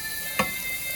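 Onions and garlic sautéing in a pan for old-fashioned smothered chicken give off a steady, close sizzle, broken once by a brief tick of a utensil.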